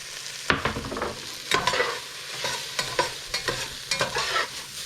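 Cornstarch, cumin and chili powder are stirred into a pot of corn soup, with a spoon knocking and scraping the pan in repeated strokes over a soft steady sizzle, close and without talk.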